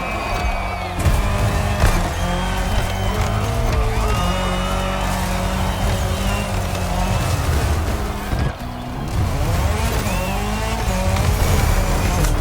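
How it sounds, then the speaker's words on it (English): Rally car in The Crew Motorfest's Red Bull Speed Clash leaving the track for dirt, a steady loud engine drone with shifting pitch, tire scrabble and squeals throughout, a brief dip near the end. "The rally car has already changed its course to reach the dirt."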